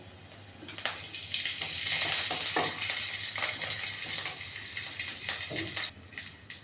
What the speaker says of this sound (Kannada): ಈಗ ಕರಿಬೇವು ಹಾಕ್ತಾನೆ ನೋಡಿರಿ.